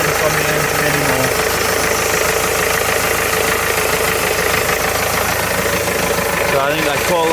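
A Renault Master mk2 van engine idles close and loud after a lower timing gear oil seal replacement, a steady knocking diesel rhythm that runs continuously, with someone talking over it.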